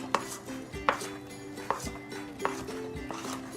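Sweet potato cake batter mixed with flour in a bowl, heard as regular knocking strokes of a utensil against the bowl roughly every second, close and fairly quiet, with no talking.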